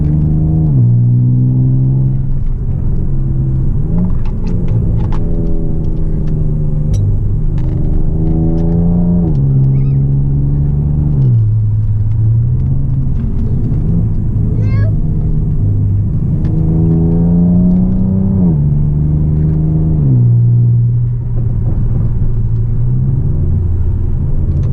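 A car fitted with Eibach lowering springs drives a twisty road with a steady, loud interior engine drone. The engine pitch climbs and drops repeatedly through acceleration and gear changes, over a constant low rumble.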